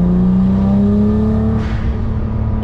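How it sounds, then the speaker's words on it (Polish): A 1200 HP Nissan GT-R Liberty Walk build with a loud exhaust gives a brief throttle blip, a deep, close, steady engine roar that swells slightly and then settles. "To było muśnięcie pedału gazu."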